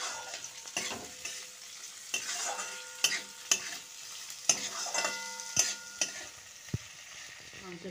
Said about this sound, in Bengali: পেঁয়াজটা আমি দিয়ে দিচ্ছি, আর অল্প কাঁচা লঙ্কা দিচ্ছি। হালকা একটুখানি মাংসের সঙ্গে কষিয়ে নেব।